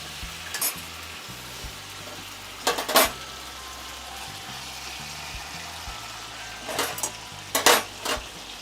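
Chicken tandoori is roasted in a pan on a home stove, giving a steady, low sizzle with a few sharp clinks and scrapes as the pieces are turned.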